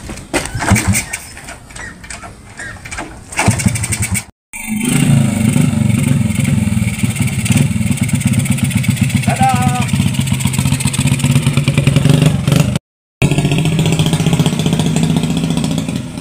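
An antique motorcycle engine runs close by with a rough, clattering idle and uneven revving, continuing for most of the stretch under people talking, with brief breaks in the sound.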